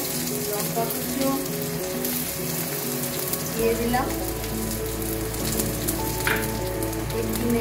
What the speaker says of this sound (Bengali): আমার কড়াইয়ে তেল গরম হয়ে গেছে, এতে আমি পেঁয়াজ কুচো, লঙ্কা কুচো